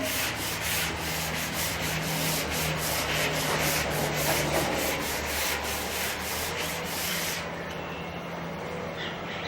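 An eraser or cloth rubs writing off a classroom board in steady, repeated back-and-forth strokes, a soft scratchy scrubbing heard close up with no talk, stopping near the end.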